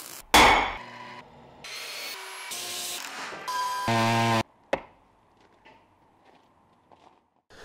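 A pneumatic edge beveler chamfers metal in a metal shop, making loud grinding and whirring bursts with sharp knocks, then settling into faint low noise.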